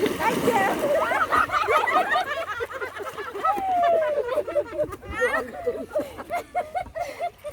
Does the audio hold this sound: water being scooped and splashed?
yes